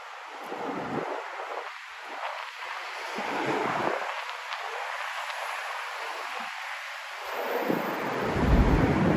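Gusty wind buffeting a microphone outdoors on a windy night in downtown Miami, with low rumbling surges rising and falling throughout, strongest toward the end.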